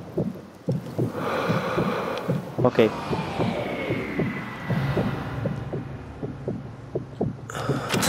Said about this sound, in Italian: aspettiamo i 75 battiti al minuto